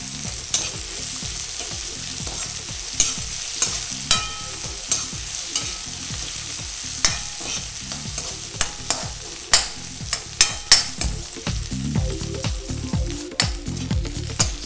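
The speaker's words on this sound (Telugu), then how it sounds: "సో ఉల్లిపాయలు ఫ్రై అవుతున్నాయి నైస్ సాఫ్టీ ట్రాన్స్పరెంట్ టెక్స్చర్కి వస్తున్నాయి" Sliced onions frying in a pan for jeera aloo, a steady close sizzle broken by frequent rhythmic spatula scrapes and taps against the pan, no talking.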